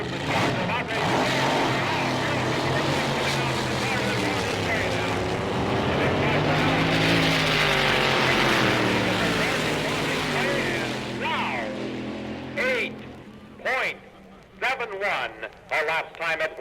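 Loud 1963 drag racing cars rev and then launch off the line with a sustained roaring engine drone that rises in pitch and fades into the distance, an announcer talking over it throughout.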